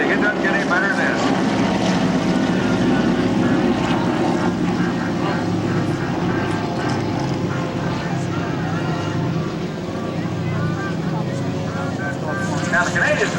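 Harvard propeller trainers flying in formation at an airshow, a steady loud droning engine roar that holds throughout with a faint announcer's voice over the public address beneath it.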